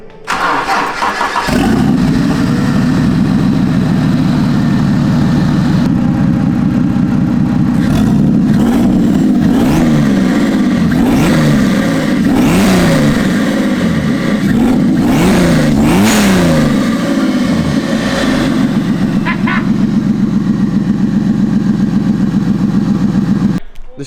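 A turbocharged car engine with no wastegate cranks, catches and runs loud and close, then revs up and down in several surging bursts before settling back to a steady idle, with a brief voice heard near the end.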